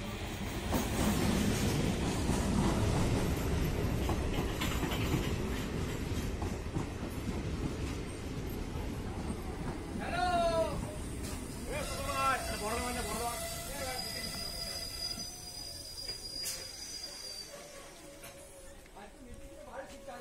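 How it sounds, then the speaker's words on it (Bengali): A passenger train pulls into Dadpur station in Bankura, West Bengal, its loud rumble and clatter easing as it slows to a halt, followed by squealing brakes and hissing, with someone speaking over it. "দেখতেই পাচ্ছেন চলেই এসছে ট্রেন।"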